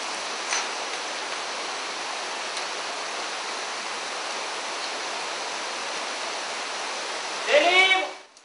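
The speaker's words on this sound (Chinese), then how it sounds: "下面很黑，什么也看不清，只能听到哗哗的流水声。" Water rushes at the bottom of a dark vertical shaft in the Shuanghe cave, a constant, dense roar that fills the whole space, with a brief louder shuffle near the end.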